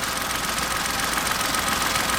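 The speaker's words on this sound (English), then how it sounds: "And it's just the engine on its own." A Kia Picanto engine runs with its drive belt removed, alternator, air-con, idler and water pump all disconnected, giving a steady, continuous close-up idle drone with no talk.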